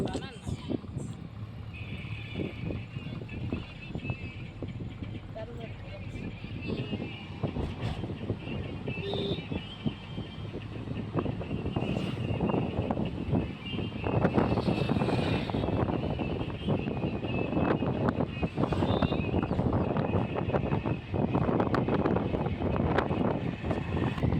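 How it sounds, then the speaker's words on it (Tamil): Strong wind roars and buffets the microphone throughout, a steady low rumble that swells in gusts and grows louder in the second half. "செமையாக காற்றும் அடிச்சிச்சு."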